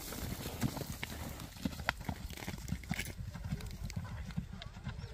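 Horse hooves clip-clop at a steady, uneven walking rhythm, moderately close, with a voice talking over the hoofbeats.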